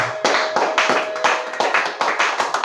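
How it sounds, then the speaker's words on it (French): A church congregation claps loudly and steadily together, a dense, continuous burst of applause with no voices over it, giving praise during a worship service. "On acclame très fort le Seigneur."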